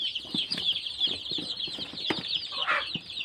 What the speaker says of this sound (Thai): ยังไม่ถึงครึ่งทางเลยครับ ผมไก่เยอะมาก